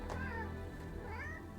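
A house cat meows a few drawn-out times indoors, close by, over a steady bed of background music.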